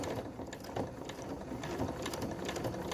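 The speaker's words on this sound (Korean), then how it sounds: "그 다음 페달을 밟으면 앞으로 나가고 자 되돌아받기 버튼을 눌러서" A sewing machine stitches torchon lace onto a tea mat, running in a steady close mechanical whir with rapid rhythmic needle clatter throughout.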